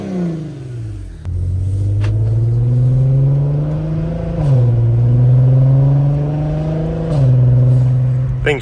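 Volkswagen MKV R32 engine heard from inside while driving and shifting, a deep steady drone that rises in pitch through each gear, drops sharply at the shifts and climbs again, loud and close, with no speech.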